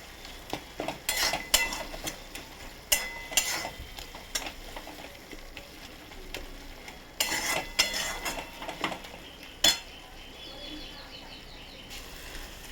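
A spoon scrapes and clinks against a pan in irregular bursts as spices are stirred for ghugni, with a faint sizzle underneath; fairly quiet and close, with no talk.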